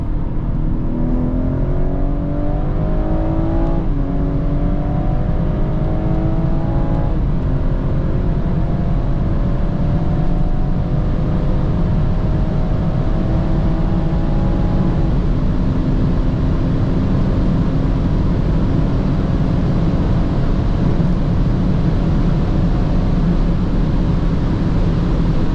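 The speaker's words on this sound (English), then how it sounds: "And now, on to some normal accelerations in third gear." BMW 440i, tuned to 400 horsepower, pulling hard in third gear on the autobahn, the engine note rising steadily through a long acceleration under constant loud wind and road roar, with no talking.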